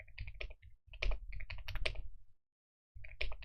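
Quick clatter of keystrokes on a computer keyboard, fairly faint, arriving in bursts with a short pause before the typing picks up again.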